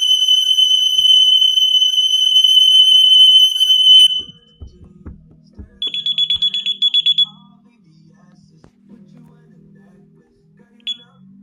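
An ADT Impassa home alarm siren shrills loud and steady during a test, then cuts off as the system is disarmed, followed by a short burst of keypad beeps and a person speaking.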